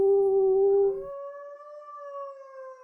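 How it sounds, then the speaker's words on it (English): An animal howl from the Tsukihime visual novel, a high, sustained wavering cry that begins loud and rich, then thins into a clear rising-and-falling tone held for nearly three seconds, alone with no other sound. "The howl of an animal."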